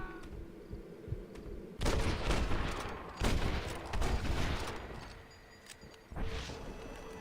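Loud gunfire from a powerful gun in Red Dead Redemption Remastered: heavy volleys of shots in several bursts with rolling echoes, separated by brief quieter gaps.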